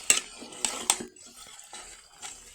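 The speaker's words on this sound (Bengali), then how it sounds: "এখন মিষ্টি কুমড়োটা নাড়া দিয়ে রাখবো" Pumpkin pieces being stirred in a cooking pot, a few sharp metallic spoon clinks against the pot followed by softer scraping and shuffling, fairly quiet.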